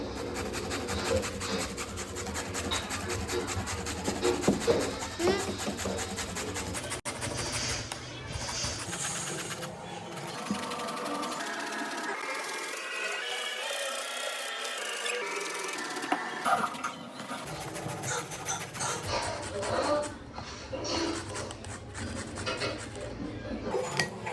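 Something is grated by hand on a rasping grater, a continuous scraping and rubbing with uneven rhythm that carries on for over twenty seconds, with a brief softer stretch partway through.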